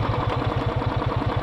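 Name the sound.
motorcycle engine revving during a burnout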